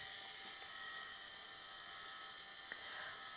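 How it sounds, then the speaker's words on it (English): A CNC spindle driven by a VFD spinning up, a faint steady high-pitched whine with electronic tones holding evenly throughout. "it should start running the spindle up"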